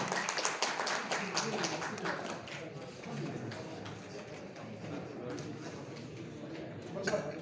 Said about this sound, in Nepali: जोरदार तालीले धन्यवाद